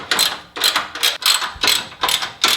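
A ratchet wrench tightening two 14mm bolts on a Toyota Tacoma frame during a shock install, five or six loud close bursts of rapid clicking separated by short pauses.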